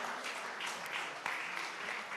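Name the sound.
audience applause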